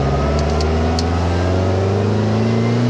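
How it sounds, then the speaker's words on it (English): A 1967 Volkswagen Beetle's engine drones loudly from close by as the car accelerates on the road, its pitch climbing steadily across the clip with no one speaking. "Plenty of pep. I mean, this thing pulls up to the RPM range where it needs to be."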